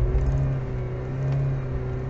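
A Lada Niva 4x4 on mud tyres, with locked center differential, in first low gear, engine droning at a steady, raised rev with a low, continuous rumble, close and fairly loud.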